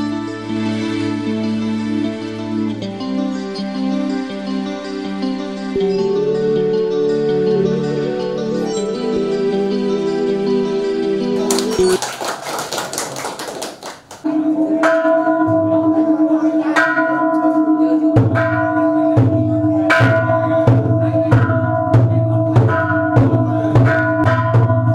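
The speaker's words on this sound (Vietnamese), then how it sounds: "cũng mong được tiếng chuông của nhà thờ sẽ vang xa" A newly donated bronze bell at a Vietnamese family church rings loudly and close, with long sustained tones, a burst of clanging partway through, then repeated struck peals ringing out and overlapping.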